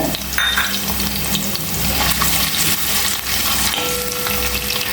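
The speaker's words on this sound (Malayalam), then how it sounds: "കുറച്ച് 3-4 പച്ചമുളക് ഇട്ട് കൊടുക്കുന്നുണ്ട് അരിഞ്ഞത്." Chopped green chillies frying in oil for Kerala-style chicken varattiyathu, a loud, dense sizzle running steadily throughout with faint stirring, no voices.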